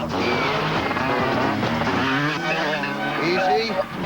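Volkswagen V6 Passat driving hard with tires skidding and squealing, a busy car sound with wavering squeal tones and music or voices mixed in throughout.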